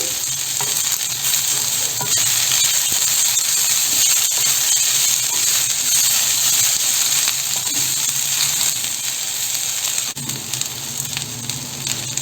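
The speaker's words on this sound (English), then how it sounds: "You have to fry it till it's light brown." Chopped ivy gourd (dondakaya) fries in a pan with a steady, loud sizzle and hiss, punctuated by occasional stirring scrapes, for an Andhra-style chutney.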